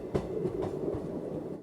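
Passenger train running on rails as it nears New Jalpaiguri station in India, a steady close rumble with rhythmic wheel clicks and thumps throughout, no talking.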